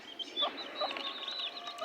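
Native deshi chicken chicks peep and chirp inside a cage, a faint, busy cluster of high, thin cheeps overlapping steadily without pause.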